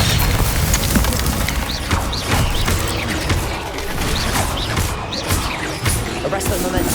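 The Descendo spell is cast in the video game Hogwarts Legacy, giving dense, rumbling magical impacts and crashing booms in a rapid, continuous barrage of combat effects, loud and busy throughout, with a voice shouting spell names.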